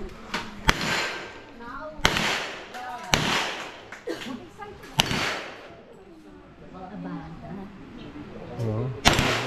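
Gunshots crack at a shooting range competition, several sharp, loud reports spaced a second or two apart, with people talking close by between the shots.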